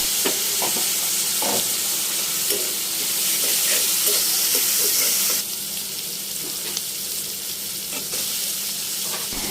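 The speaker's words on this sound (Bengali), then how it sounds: "এবার আমি কাঁচামরিচ আর চিংড়ি মাছ দিয়ে দিচ্ছি। এবার সামান্য একটু হলুদ গুঁড়ো দিয়ে আমি হালকা করে একটু ভেজে নিব।" Green chilies and shrimp fry with turmeric in a pan for a bitter gourd dish, a strong steady sizzle broken by repeated spatula scrapes and taps, growing slightly quieter partway through, with no voices.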